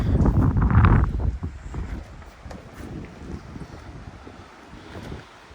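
Gusty wind buffets the microphone outdoors beside a 1997 Kawasaki Ninja ZX-7 motorcycle, loudest at the start and then easing into a rough, fluttering rush.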